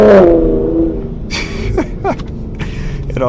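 A Ford Raptor pickup with an SPD Trombone exhaust gives a sharp rev at the start, then rumbles at idle with a few brief throttle blips, close and fairly loud.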